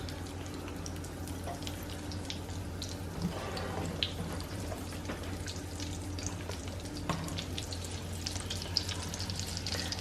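Chicken pieces shallow frying slowly in a pan, a steady close sizzle and crackle running throughout with a low background hum and occasional small clinks.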